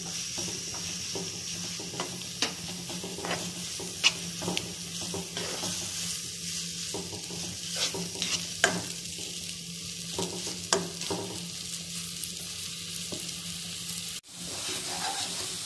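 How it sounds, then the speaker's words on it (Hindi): Chopped onions fry in hot oil in a pan while mutton keema is being cooked, giving a steady close sizzle broken by scattered clinks and scrapes of stirring, with no talking. "अब हम इसके अंदर 2 चॉप की हुई प्याज ऐड करेंगे और इनको अच्छे से फ्राई कर लेंगे।"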